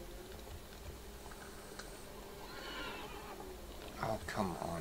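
A horse whinnies near the end in the video game Witcher 3, over a steady background hum and faint rhythmic clatter, the neigh rising briefly above the low, continuous noise.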